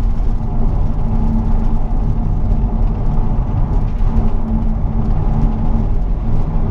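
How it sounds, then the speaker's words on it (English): A BMW 535d e61 diesel estate on an extra-urban road, a steady low engine drone with tyre and road rumble heard from inside the cabin, continuous and fairly loud. "Yeah, I know it's a diesel car"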